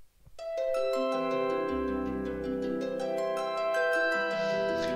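Plucked harp arpeggio layered with a copy an octave higher and delayed by an eighth note, bright overlapping tones ringing out into sustained chords, clear and close with no talking.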